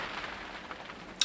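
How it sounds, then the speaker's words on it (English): Rain coming down outside during atrocious weather, a soft continuous hiss of falling drops with one brief sharper patter near the end, faint and steady with no talk. "Weather's atrocious out there. Rain really been coming down since early hours this morning."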